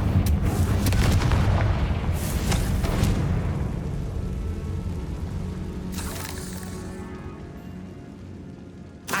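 A fiery blast spell detonates in the Hogwarts Legacy video game, a loud booming explosion with rumbling tail, followed by a second sharp burst and crackling debris fading out.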